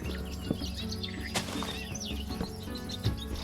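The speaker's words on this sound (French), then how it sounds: "Je me doute que c'est dans l'arbre que se situe le nid des oiseaux." Birds chirping from a nest in a tree in the game Minecraft, several quick high tweets and flutters scattered over a busy background of game sound, fairly faint.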